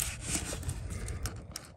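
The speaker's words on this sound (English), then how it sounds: "back to sanding." Steady abrasive rubbing of sanding against a boat hull, continuous and close, with no talking.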